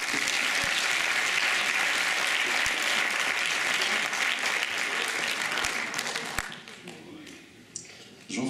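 Sustained audience applause at an eloquence contest final, dense and even for several seconds before thinning out near the end, with a few louder claps and voices trailing after.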